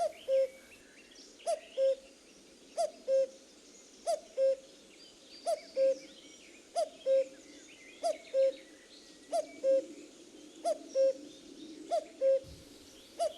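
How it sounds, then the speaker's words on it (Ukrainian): A common cuckoo calls its two-note cuckoo repeatedly at a steady rhythm, about a dozen times, clear and prominent over faint background ambience. "Так, вірно, це зозуля."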